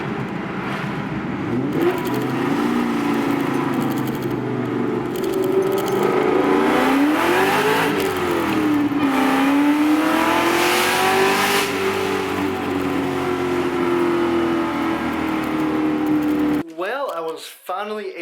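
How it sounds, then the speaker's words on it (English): A Cobra sports car is driven hard on the road, its loud engine note climbing and holding through a long, sustained pull with wind and road roar, cutting off abruptly before a brief voice at the end. "I was finally able to record me getting on it in the Cobra for you guys"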